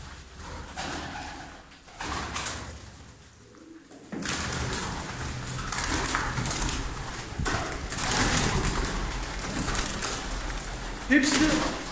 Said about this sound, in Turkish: Bir daireyi buraya ayırmışlar ve yukarıda da kuş var diyor Özcan abi.